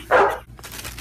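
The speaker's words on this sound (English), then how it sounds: "What are you barking?" A dog gives a single short, loud bark up close, followed by quieter rustling.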